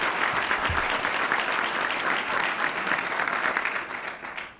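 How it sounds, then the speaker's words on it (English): Audience applause at a press club luncheon, a dense steady clapping from a large crowd filling the room, loud and sustained before easing off at the end. "let's give Alan a round of applause for his service and his leadership."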